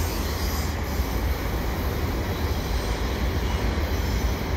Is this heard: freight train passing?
yes